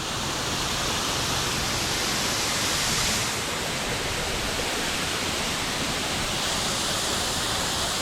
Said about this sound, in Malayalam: മനോഹരമായ വെള്ളച്ചാട്ടം.